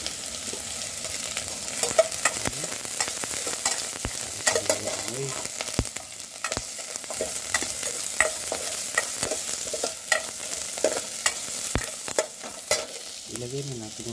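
Garlic sautéing with browning onions in a pan crackles and sizzles steadily while a utensil scrapes and taps the pan in frequent irregular strokes throughout.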